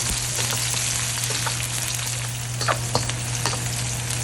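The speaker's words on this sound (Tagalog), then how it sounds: "Tapos isunod na natin yung ating bawang at saka sibuyas." Garlic and onion sizzle steadily in hot oil in a pan for a tausi fish dish, with a constant loud fry and a few stirring scrapes, close up, no voices.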